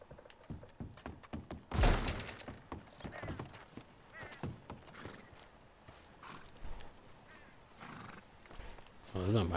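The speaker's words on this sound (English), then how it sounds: "Oh, that's not my horse. It's a Kentucky Saddler." A Kentucky Saddler horse in a video game, its hooves clopping in scattered beats before a whinny near the end, with a person talking over the game sounds.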